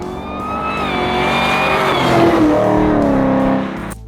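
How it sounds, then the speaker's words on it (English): An Oldsmobile 442 V8 muscle car roars close by, its engine note climbing and sliding in pitch through a sustained rev before cutting off abruptly near the end. "hearing the roar of an Oldsmobile 442 probably sent shivers down your spine"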